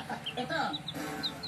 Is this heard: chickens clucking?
yes